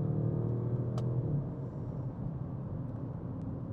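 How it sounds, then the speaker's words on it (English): A low, steady V8 burble from a modified Audi RS6 rumbles throughout, heard from inside the car at a moderate level, with no one speaking. "it's a pleasant V8 burble."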